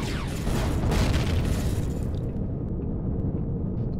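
Ball turrets exploding in the Empyrion Reforged Eden space game, a heavy, rumbling blast with deep low-end roar that sustains for about two seconds, then decays into a quieter crackling tail.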